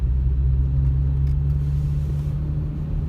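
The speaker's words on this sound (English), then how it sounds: "So my foot comes off the gas, clutch goes in, now I'm in third." Engine of a manual race car at steady low revs as the clutch goes in during a shift into third, a continuous loud, close rumbling drone with a slight drop in level late on.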